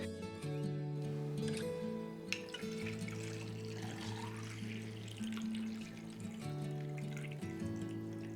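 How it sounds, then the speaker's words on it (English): Fixer being poured into a black-and-white film developing tank: a continuous gurgling pour with small splashes, steady and moderately close, over a low humming drone. "Now we're going to pour in the fixer."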